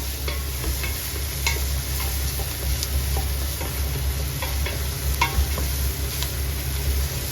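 Onions and pepperoni sizzle and fry steadily in a pot while being stirred, a dense continuous crackle with scattered scraping ticks over a low steady hum.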